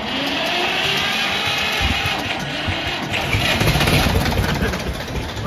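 An Escort tractor engine cranked on its self-starter and running, a continuous loud mechanical rumble and clatter close by that holds steady for several seconds with no clear speech over it.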